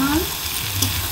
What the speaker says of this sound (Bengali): ডিম দিয়ে ফুলকপি ভাজি